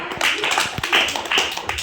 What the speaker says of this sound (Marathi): सर्वजण आदेशला टाळ्या वाजा